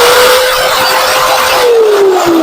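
A WELLOO MX21400 1400W electric cement mixer runs at speed 1, giving a loud, steady motor whine that holds one pitch and then slowly drops toward the end, with no talking.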